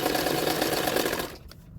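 A sewing machine stitches an extra strip onto a katori blouse neckline, a steady fast whirring drone heard close up that stops abruptly near the end, leaving quiet.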